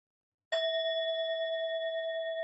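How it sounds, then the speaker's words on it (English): A meditation bell is struck once after silence and rings on as a clear, steady tone that sustains with a gentle shimmer, heard alone in a calm setting. "I'm going to bring in our bell"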